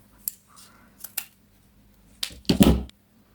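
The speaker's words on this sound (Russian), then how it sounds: "Я замок обрезаю чуть короче, вот примерно вот так." Scissors snipping through a zipper for a crocheted cosmetic bag, a few light clicks of the blades followed by one louder, longer cut, close up in a quiet room.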